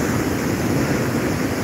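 Storm surge waves splash against a seawall at Tagas Boulevard in Bicol, making a loud, steady wash of churning water with wind noise over the microphone and no gaps.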